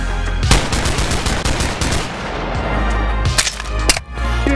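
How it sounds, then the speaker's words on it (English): Rapid gunshots fired at point blank range in the VR shooter Boneworks, a loud close burst of sharp cracks in quick succession followed by a few more separate shots, with no talking. "Shoot him at point blank range."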